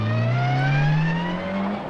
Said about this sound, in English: even when practicing in his rally car, Russ was still keen to show off his auto test moves for the cameras